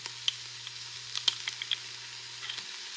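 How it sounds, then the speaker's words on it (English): Jarred minced garlic sautéing in a pan for a lightened-up Zuppa Toscana, a quiet, sparse crackle of sizzling pops and faint hiss close by, with no voices. "We're gonna saute that up for a few minutes"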